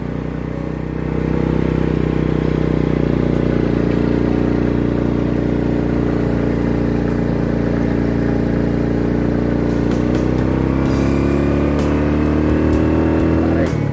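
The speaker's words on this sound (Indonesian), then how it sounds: "Yuk, ini tanjakan lumayan di Gunung Gandul. Ini posisi gigi 2." An old Suzuki Supra motorcycle climbs a steep hill at Gunung Gandul in second gear, its engine droning loud and steady close to the rider, with a slight rise in pitch near the end.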